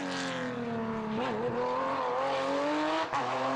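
Porsche rally car racing on small narrow roads at the TAC round of the 2016 Belgian Rally Championship, engine roaring and rising in pitch through gears, loud and close, with a brief gearshift dip near the end.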